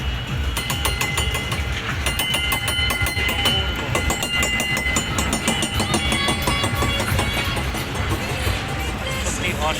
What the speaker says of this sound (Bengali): এটা হচ্ছে সোনার বাংলা ট্রেন একটা ট্রেন আসতেছে সোনার বাংলা